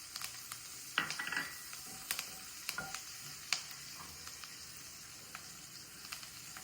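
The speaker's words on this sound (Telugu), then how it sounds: "పచ్చిమిర్చి కొంచెం ఫ్రై చేసుకోండి. కరివేపాకు వేసేస్తున్నాను." Green chillies and curry leaves frying in a pan for garlic fried rice, a faint soft sizzle broken by sharp pops and crackles, with a few light clicks of a utensil.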